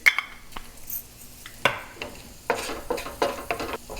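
Onions sautéing in a non-stick pan, stirred with a utensil: a soft sizzle under a series of scraping, clinking stirs that come in bursts, close and moderately loud, with no talking.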